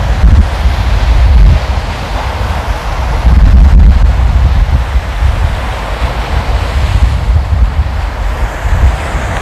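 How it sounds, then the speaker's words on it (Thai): Strong sea waves crash at a beach while heavy wind buffets the microphone, producing a loud, continuous roar with surging swells and no speech. "คลื่นโคตรแรงครับตรงนี้แล้วก็ลมแรงมาก"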